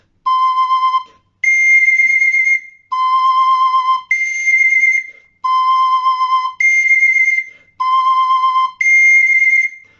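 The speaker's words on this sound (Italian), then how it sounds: "è importante che voi memorizziate il suono di ogni nota del friscaletto" A Sicilian friscaletto flute plays a repeating pair of pure notes, a lower tone then a higher one, four times in even measured rhythm, loud and close with clear breaks between phrases.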